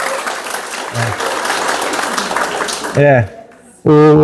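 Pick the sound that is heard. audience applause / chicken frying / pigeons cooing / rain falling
audience applause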